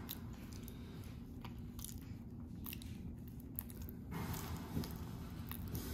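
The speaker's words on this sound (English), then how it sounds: "Nice little close-up of how Boo finishes off part of the banana." A monkey chews a banana close by, soft wet squishing and smacking bites in an irregular rhythm over a low background rumble.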